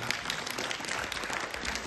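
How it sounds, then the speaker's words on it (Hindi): An audience at a poetry workshop at Amity University claps together, a dense, steady patter of many hands heard at moderate distance. "ताली बजा दीजिए"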